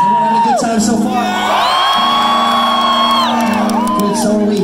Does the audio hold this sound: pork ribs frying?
no